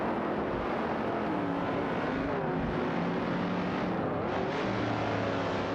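Engines of race cars in a racing video game, including a Ford Mustang Boss and Chevrolet Camaro, roar continuously at a constant loud level, with slight pitch shifts as cars jostle for position.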